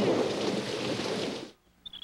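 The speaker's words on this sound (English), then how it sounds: "It's raining even harder." Loud, dense rush of heavy rain pouring down for about a second and a half, then stopping abruptly into near silence.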